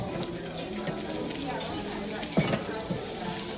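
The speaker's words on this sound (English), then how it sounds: "You want to hear that sizzle." Food frying on a hot oiled griddle, a steady close sizzle with occasional scrape and clank of a utensil on the metal surface.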